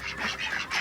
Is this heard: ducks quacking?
yes